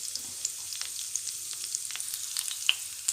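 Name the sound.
potatoes frying with curry leaves and green chillies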